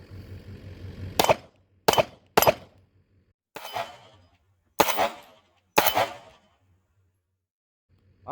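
S&W M&P Shield Plus pistol firing six sharp, loud shots at uneven intervals over several seconds, each a crisp crack with a short ring, near and clear in quiet surroundings.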